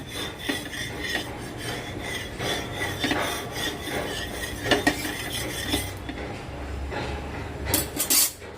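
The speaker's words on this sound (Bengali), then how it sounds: "কড়াই অত্যন্ত গরম হয়ে গেছে এবার আমি এটাকে একটু তেলটাকে নেড়ে ঘেটে নিলাম" Metal scraping and clinking against a very hot wok as oil is stirred, a steady stirring rasp with occasional sharper knocks, close and fairly loud, no voices.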